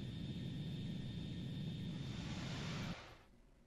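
An F-16 jet engine drones in the Ace Combat 2 video game, a steady low roar with a thin high whine on top that drops away abruptly near the end, leaving a faint tail.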